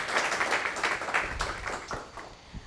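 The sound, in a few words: audience applause at a workshop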